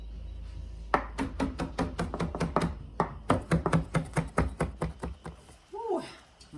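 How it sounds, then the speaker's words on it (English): A knife shaves through fresh parsley on a cutting board in a sequence of quick, crisp chopping taps. There are two short bursts with a brief pause between them, recorded close and fairly quiet. "So you just kind of shave off the parsley."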